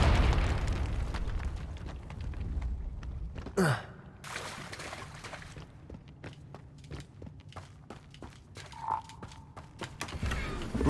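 Confringo explosive spell cast in the game Hogwarts Legacy: one sharp whooshing blast near four seconds over a quiet bed of footsteps and soft game ambience, with a faint tonal chime later and a short breathy voice.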